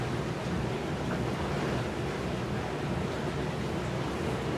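A boat cruising on open water, a steady broadband wash of hull, waves and engine rumble, continuous and fairly loud throughout with no talk.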